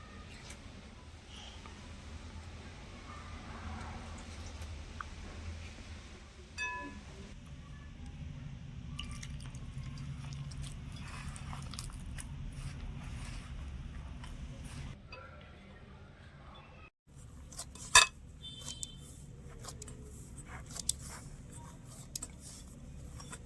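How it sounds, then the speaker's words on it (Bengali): Momo dough being kneaded by hand, with lukewarm water added a little at a time: soft, wet squishing and rubbing close by, fairly quiet and continuous, with a few brief sharper taps near the end. "এবারে অল্প অল্প করে দিয়ে আমি একটা ডো মেখে নেবো"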